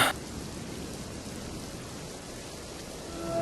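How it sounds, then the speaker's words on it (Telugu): Steady rain in a Telugu film scene falls as a constant hiss of drops, fairly close and even throughout, with no voices. "ఈ వర్షం ఏంట్రా?"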